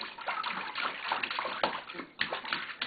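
A baby splashes bathwater in a tub, with steady sloshing and splattering broken by louder slaps across the clip. The water sounds close and the splashing is heard on its own.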